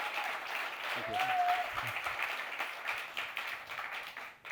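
An audience applauds steadily at a club dinner to welcome an author and journalist, with a voice speaking briefly over the clapping.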